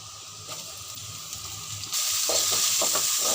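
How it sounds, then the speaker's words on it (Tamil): Mixed vegetables and garlic for prawn fried rice are stir-fried over full flame, a steady close sizzle that suddenly grows louder and brighter partway through, with a few light scraping strokes and no talking. "பாருங்கள், எல்லா காயும் போட்டு கொஞ்சம் நல்லா ஃப்ரை பண்ணிடலாம்."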